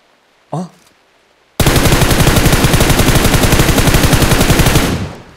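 Automatic gunfire in PUBG Mobile: after one brief earlier sound, a long, loud, rapid burst of evenly spaced shots runs for about three and a half seconds before cutting off.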